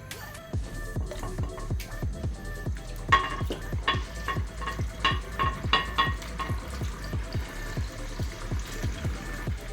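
Steady sizzle of chukkappam, a rice flour snack, frying in hot oil over medium heat, with a run of regular clicking knocks like stirring against a pan, continuing evenly throughout with no voices.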